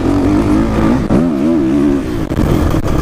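A 2016 Husqvarna 350 motocross bike engine pulls strongly from low revs and builds progressively, a loud, close, continuous drone with rising and wavering pitch and no talking.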